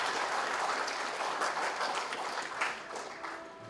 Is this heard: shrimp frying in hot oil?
no